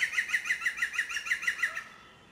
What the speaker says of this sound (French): C'est un pic vert. Écoutez encore. Il a un cri très spécifique.